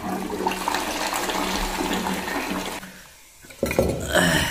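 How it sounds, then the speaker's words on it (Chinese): A newly installed toilet is test flushed, with a loud steady rush of water that drops off near the end, then a short burst as the tank begins to refill. "装好了，现在给它试一下水"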